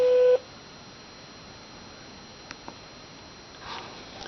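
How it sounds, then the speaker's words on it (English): A short, loud, steady voicemail beep sounds once, right after the recorded greeting on a university phone line. Quiet line hiss and a few faint clicks follow. "Please leave a message after the tone."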